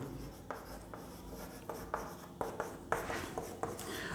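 A pen writes by hand on paper during a chemistry lesson, with soft scratchy strokes and regular taps as words are formed, close and quiet against faint room noise.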